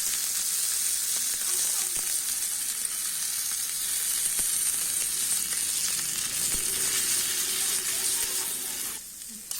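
Ground masala paste for channa masala sizzling and frying steadily in a pan, a continuous close hiss with faint stirring scrapes, dropping away briefly near the end.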